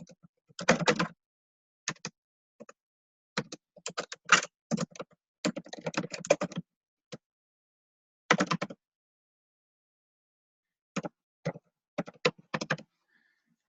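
Keys clatter on a computer keyboard in short irregular bursts separated by pauses, close and clear with no one talking, as details are entered into a website contact form.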